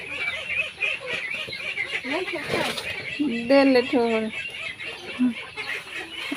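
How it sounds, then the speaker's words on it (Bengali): Chickens cluck and squawk close by as village ducks and hens are let out in the morning, with people talking over the birds. "হাঁস মুরগি ছাড়ছে মা সেই হাঁস মুরগি বলতে আছে"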